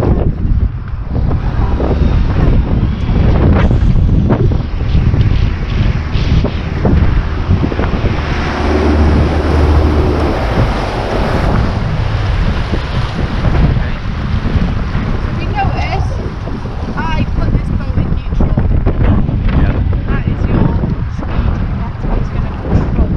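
A powerboat's outboard engine runs continuously on open water during a training course, with heavy wind buffeting and splashing waves mixed in and a voice talking intermittently over the steady drone.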